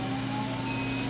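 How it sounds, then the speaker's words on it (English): The cooling fan of an OMTech water chiller for a laser runs with a steady, even hum and a faint whine, close and continuous, with no speech. "that sound you're hearing is actually the fan running"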